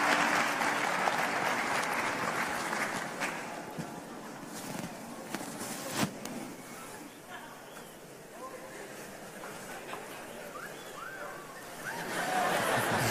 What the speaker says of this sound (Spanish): Ahí está, un aplauso, por favor.